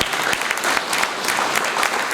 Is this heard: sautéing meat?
no